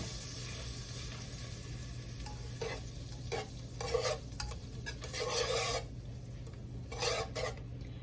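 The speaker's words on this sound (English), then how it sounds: "I'm gonna add a stick of butter." A stick of butter melts in a pan for homemade mac and cheese, giving a soft steady sizzle under repeated scraping and stirring strokes, with a low hum in the background and no talking.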